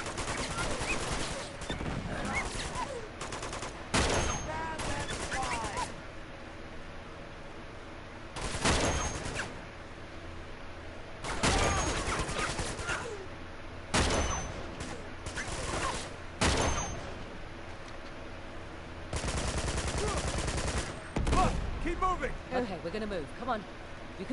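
Bursts of gunfire from a submarine in Uncharted 2: Among Thieves, rapid loud volleys in several separate blasts with quieter stretches between, and a voice talking in places.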